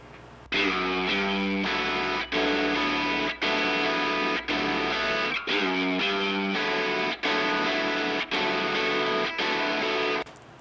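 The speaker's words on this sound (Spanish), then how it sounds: "en estos dos tracks que son de guitarra rítmica, van a escucharlo cómo refuerzan esos primeros cuerdazos" Two layered distorted rhythm guitar tracks hammer out loud strummed chords in sustained blocks, each broken by a brief gap, a dense driving wall of sound with no voices.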